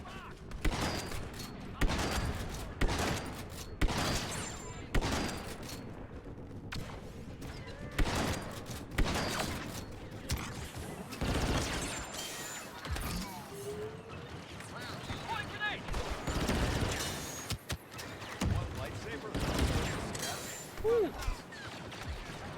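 Blaster and weapon fire from Star Wars Battlefront II crackles in dense repeated bursts across a busy battle, with sharp impacts and mechanical clatter, while voices talk over the action.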